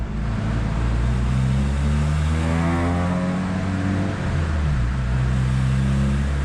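A Honda Civic EJ9 with a D14 engine warming up on a dyno, idling with a steady, loud mid-pitched drone and a brief gentle swell of revs partway through.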